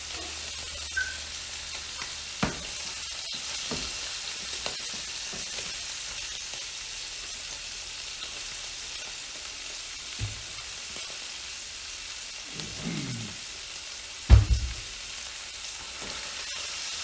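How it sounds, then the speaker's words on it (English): A Texas-style reverse-seared ribeye steak sizzles on a hot grill in a steady, close hiss, with a few scattered low thumps and clunks, including one louder knock near the end. "That's a great sear on there."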